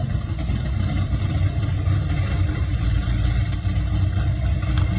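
Chevelle with twin carburetors idles steadily at a street-machine car show, a dense low rumble holding even and continuous throughout with no voices over it.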